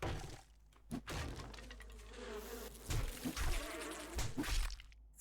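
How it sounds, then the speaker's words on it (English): Bees buzz in the survival game 7 Days to Die, a dense, continuous droning hum with crackling swells throughout, close and fairly loud, with no talk over it. "Frickin' bees."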